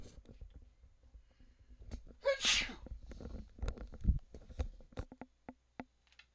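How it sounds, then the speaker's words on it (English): A single sneeze bursts out indoors partway through, a short sharp exhale standing clear of quieter background talk and small ticks. "Oh, I'm gonna sneeze."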